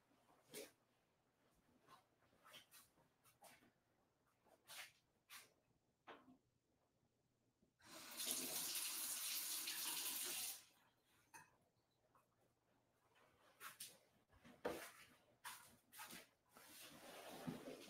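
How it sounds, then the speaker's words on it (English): A tap runs for a few seconds to refill a water brush used for nature journaling, a steady hiss of flowing water that starts and stops abruptly between quieter rustles and handling noises. "I'm actually going to have to fill up my water brush really quickly because it ran out of water."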